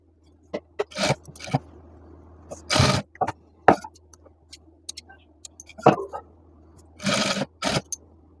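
A sewing machine stitches pant fabric in a few short bursts, the longest near the end, with small clicks and handling noises in the pauses between runs.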